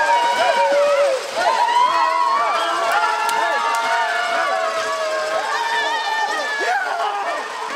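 A crowd of volleyball fans erupts in sustained cheering and excited babble right after a women's team wins the fifth set 15:12 to clinch a second-division league title, loud and continuous throughout.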